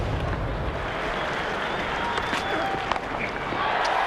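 Cricket crowd at a South Africa vs England T20 match roaring and applauding a six hit over leg side, a dense sustained wash of cheering with scattered claps and whistles throughout.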